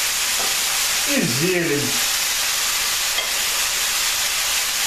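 Vegetables for a manja dish, eggplant, tomatoes, bell pepper and greens, sizzle steadily in a pan as they are stirred into tomato sauce, a constant hiss with a brief burst of speech over it.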